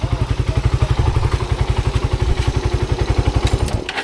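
A high-mileage motorcycle engine idles up close with a steady, rapid chugging pulse and metallic clatter, cutting out abruptly near the end.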